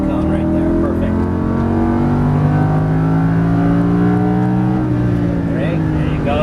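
A Lamborghini Huracan LP610 engine pulling hard on a race track, a loud continuous rising roar with climbing pitch and a brief shift, heard from inside the car with talk underneath.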